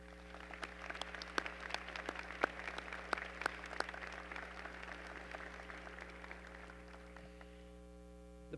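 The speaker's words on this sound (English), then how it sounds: "Can you join me in applauding all of the people over the years, the students, faculty, and staff" Audience at a medical school hooding ceremony applauds at length, with many hands clapping at moderate distance over a steady electrical hum, the clapping thinning out toward the end.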